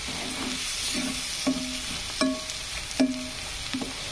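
Onions fry in a pan, a soft steady sizzle marked by a spatula knocking and scraping against the metal at irregular intervals, close and clear with no voices.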